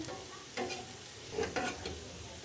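Patra pieces frying on their second side in a pan, a steady soft sizzle with a few light stirring scrapes and clicks, close and fairly quiet, no talking.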